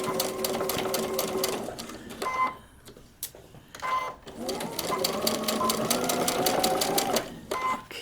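A sewing machine stitches quilt block seams in rapid close bursts of needle clatter, pausing briefly between runs, with a person speaking quietly over it.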